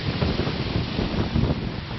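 Strong wind roars steadily into the microphone in Calgary, a dense buffeting rumble with gusty surges and no voices.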